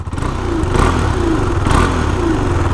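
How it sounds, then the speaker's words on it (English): A KTM RC 390 single-cylinder motorcycle engine thumps loudly and close by, its steady idle rising in two brief blips of throttle. "this is a single cylindered engine, so it is a little thumper, unlike the parallel twin of the Ninja 400"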